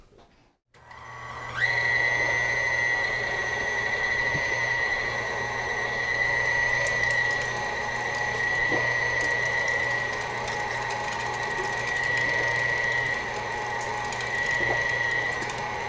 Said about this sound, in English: I'm going to go ahead and grind it right here on this